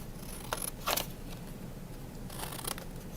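Scissors snip paper for a square craft-castle flag, with two or three quick, close cuts followed by a short pause and another burst of snipping at a soft level.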